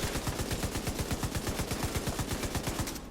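A machine gun fires in the Division 2 video game, one unbroken stream of rapid, evenly spaced shots lasting about three seconds, sharp and close.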